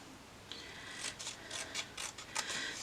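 Scissors snip around a cut-file paper letter for a title, a series of close, quiet, crisp snipping cuts spaced irregularly across the moment, with no talking.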